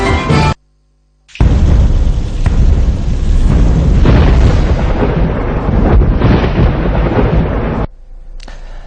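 A thunderstorm with heavy monsoon-season rain in southern India rumbles in deep, loud thunder over a dense rain roar, with a short gap of quiet before it swells and a cut near the end.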